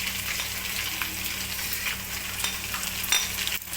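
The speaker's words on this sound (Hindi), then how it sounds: "कटी हुई सब्ज़ मिर्चें डाल दी इसमें" Chopped green chilies hiss and sizzle in hot oil in a pan while a pulao with chicken is being cooked, giving a continuous bright crackle with a few scrapes of stirring near the end and no talking.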